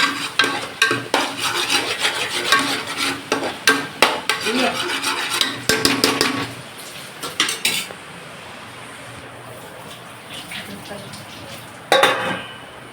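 Spice masala stirred in hot oil in a metal pan, with repeated sharp spatula scrapes and clinks over a low sizzle, quieting toward the end before one last clatter.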